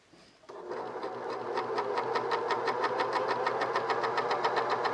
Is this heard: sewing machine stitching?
yes